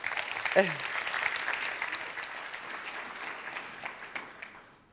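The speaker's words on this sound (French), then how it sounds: "On peut applaudir M. Gérard Collomb, s'il vous plaît" Applause from an audience at a conference opening plenary session in Lyon, a broad wash of clapping that is fairly steady, moderately loud and fades slightly over five seconds, with a brief voice early on.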